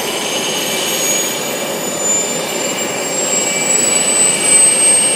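An RC model turbine jet engine runs through its start sequence, giving a loud, steady roar with a high whine that climbs slowly in pitch; someone speaks briefly under it.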